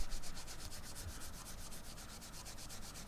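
A guitar neck is rubbed with heavy scratch remover, a close, steady rhythmic swishing of fast back-and-forth strokes that continues evenly throughout.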